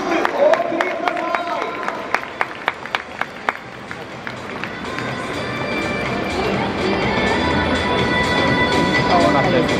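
Crowd applause at Kyocera Dome after the Venus cheer team's pre-game stadium dance to 'High Hopes', starting as scattered sharp claps and swelling into a continuous roar of clapping and crowd noise.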